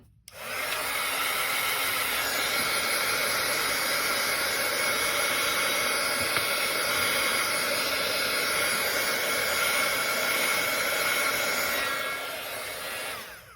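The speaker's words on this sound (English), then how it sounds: "I'm just gonna turn on my heat tool to dry this up." A crafting heat tool blows steadily on a stamped card to dry its watercolor, a loud continuous whooshing roar that starts abruptly, holds for about twelve seconds, then cuts off, with no talking.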